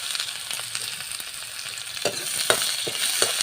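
Onions fry in a pan with dried red chillies, giving a steady close hiss and sizzle broken by occasional louder crackles and stirring scrapes toward the end.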